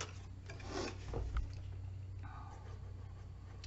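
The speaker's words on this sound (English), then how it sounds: "then I will burnish them" Paper pieces of a Halloween craft box are burnished by hand, producing soft, quiet rubbing and scraping strokes in short bursts against a faint steady hum.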